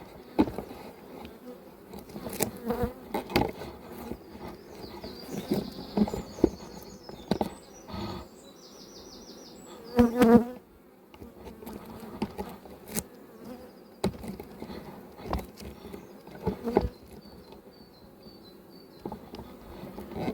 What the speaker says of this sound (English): try not to shake bees on a frame like that, just in case you have missed her